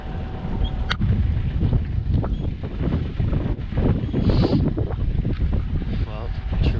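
Strong wind roars steadily around a sailboat riding at anchor at night, a loud continuous rushing with gusts and occasional knocks and creaks from the boat, while a voice talks over it.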